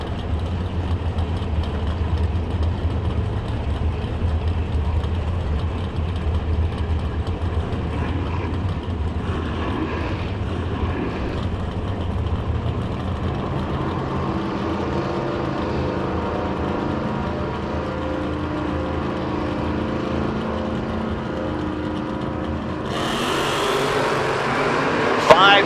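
Drag race engines from a Chevelle and a Camaro rumble low and steady at the line, then build into a rising roar, ending in a sharp loud burst as the cars launch.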